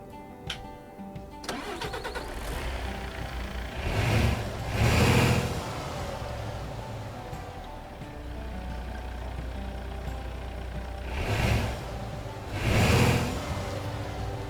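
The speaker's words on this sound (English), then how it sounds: "It sounds a bit like a taxi or regular just diesel engine." Ford F-MAX truck diesel engine in Euro Truck Simulator 2 idling steadily, with a start-up burst and two rises in revs, close and continuous without talk.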